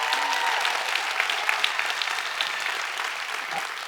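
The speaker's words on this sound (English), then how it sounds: "That was not a winning team clap" An audience at a summit plenary claps together, a full, even spread of many hands sustained for several seconds at moderate loudness, with a faint voice underneath.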